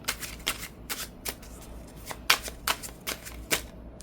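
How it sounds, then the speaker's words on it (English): A deck of tarot cards is shuffled by hand in a series of quick riffling bursts, roughly ten crisp rustles at an uneven rhythm, close by, with no talking. "Let me get a good shuffle."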